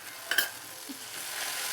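Ginger garlic paste frying in oil with browned onions in a pan, giving a soft continuous sizzle with one brief scrape of a spoon near the start and no voices.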